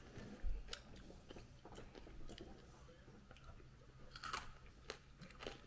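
Crunchy food chewed at a dinner mukbang, with several close, crisp bites and crunches scattered through the clip under a quiet background.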